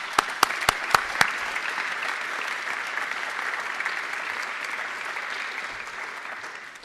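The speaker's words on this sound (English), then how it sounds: "Let me welcome you and give you some applause" Applause at the thyssenkrupp nucera IPO listing ceremony in Frankfurt: a few sharp single claps open, then steady, dense clapping from a sizable crowd holds at an even level throughout.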